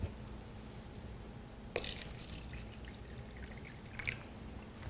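Tap water pours into a cup for a tea demonstration, with two short splashy bursts of liquid standing out over a quiet room hum, no talking.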